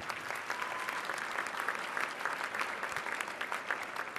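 Audience applause at a Women's Bar Association of Illinois installation ceremony, a steady, even wash of many hands clapping from a large room, continuous throughout at moderate loudness.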